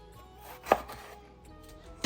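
A knife chops black eggplant into regular pieces on a board, with two distinct sharp thunks about a second apart over a quiet kitchen background.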